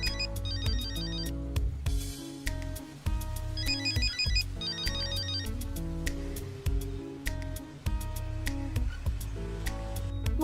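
A phone rings again and again during an unanswered call, with a repeated electronic ringtone in bursts over a dramatic musical score that carries on throughout.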